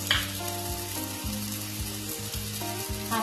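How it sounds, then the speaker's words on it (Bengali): Spice paste fried in a pan for a tilapia fish curry gives a steady close sizzle, broken by repeated scraping strokes of a spatula stirring through it. "আবার একটু নাড়াচাড়া করে নিই। মশলাটা একটু কষে নিয়েছি"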